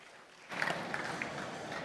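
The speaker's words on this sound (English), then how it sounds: "I know you applauded already, but you know, warm him up again" An audience bursts into applause to welcome a speaker, a soft steady patter of many hands clapping that starts suddenly and continues at moderate distance.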